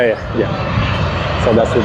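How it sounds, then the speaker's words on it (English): A Singapore Airlines jet airliner rolls along the runway at Sydney Airport, its steady engine roar filling the background while people talk close by. "Oh, that's Singapore Airlines SQ232 out here."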